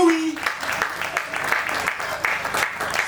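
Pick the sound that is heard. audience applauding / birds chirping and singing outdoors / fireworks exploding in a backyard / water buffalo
audience applauding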